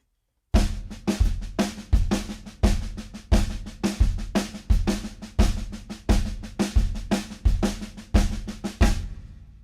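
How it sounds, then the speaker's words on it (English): A snare drum plays steady sixteenth notes, with louder accents falling in a clave pattern. The crisp, close strokes repeat the rhythm over and over with nothing else in the background. "And it would sound like this just on the snare drum."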